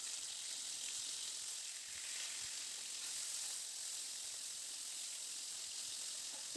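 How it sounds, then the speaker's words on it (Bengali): Pieces of katla fish fry in hot mustard oil, giving an even, continuous crackling sizzle that stays faint and steady throughout with nobody speaking. "এবার মাছটাকে ছেড়ে দিয়ে মাছটাকে ভেজে নেব।"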